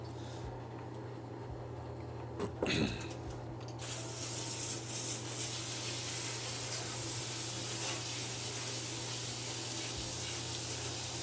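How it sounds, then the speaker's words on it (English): A soapy tool brush on a repair bench being rinsed and scrubbed out under steady running water, a continuous close hiss of spray that starts a few seconds in and keeps going, with no talking. "Cleaning out my brush"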